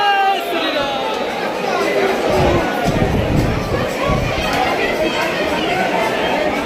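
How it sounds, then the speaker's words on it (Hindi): A crowd of pilgrims at a temple in Ayodhya during the Bol Bam kanwar season, heard as a dense, steady wash of overlapping chatter and voices close around, with no single voice standing out. "इसको कहते हैं भीड़।"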